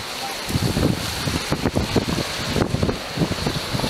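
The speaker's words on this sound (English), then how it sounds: "That was a strong wind, although you probably can't hear it." Strong wind gusting along high sea cliffs near rocks and water, a steady roaring rush with buffeting bursts across the microphone throughout.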